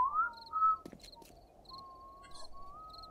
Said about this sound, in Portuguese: Gente, eu juro que eu tô ouvindo um assobio